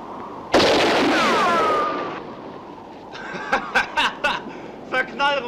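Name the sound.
gunshots in a western film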